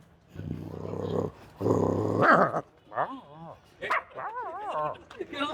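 A person imitates a dog, growling low and rough, then breaking into short yipping barks.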